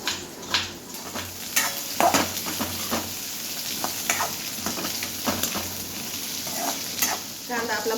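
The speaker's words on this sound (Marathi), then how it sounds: "कट करून कांदा चांगला भाजून घ्यायचा" Sliced onion roasts in a pan, a continuous sizzle punctuated by frequent clinks and scrapes of a spatula stirring against the metal.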